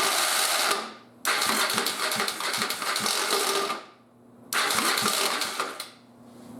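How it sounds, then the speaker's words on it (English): Starter motor cranking an old motorcycle engine that does not fire: two long bursts of rapid, even mechanical churning, close and loud, separated by a short pause, with no talk. "At least the starter is strong enough to crank it."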